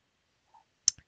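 A computer mouse gives a faint soft tick followed by a sharp double click, close and isolated in an otherwise quiet room.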